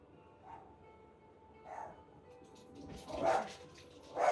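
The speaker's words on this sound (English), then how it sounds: "My dogs are barking, so something's going on over there." Several dogs barking in another part of the house, a handful of separate barks spaced a second or so apart, moderately distant and growing louder toward the end.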